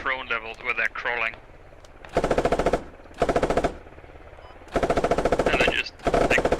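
Rapid automatic gunfire in the Squad video game comes in several long loud bursts separated by short gaps, with a voice talking briefly at the start over faint background noise.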